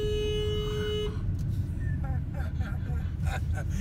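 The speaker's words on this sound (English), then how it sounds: "I'm gonna honk. Beep. Beep." A car horn sounds a steady tone for about a second, then traffic noise and people talking continue in a busy street in Rincon, Puerto Rico.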